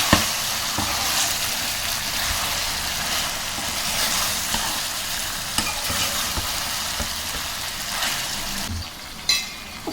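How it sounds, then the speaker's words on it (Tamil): Spicy chicken frying in oil gives a loud, continuous crackling sizzle with scattered spatula scrapes and knocks against the pan, close up and without speech. "இது எண்ணெயிலே நல்லா வேகட்டும்."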